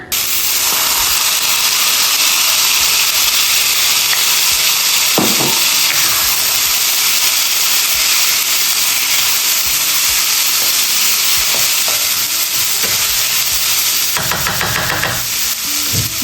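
Onions, green pepper and carrots fry loudly in a hot pan, a dense, continuous hiss and sizzle with occasional knocks and scrapes of stirring and a brief burst of clatter near the end.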